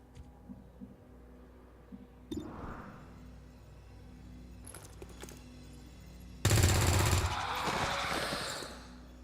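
Gunfire in the XCOM 2 video game: an automatic burst rattles out loudly near the end, after quieter game effects and thumps, over a faint background hum.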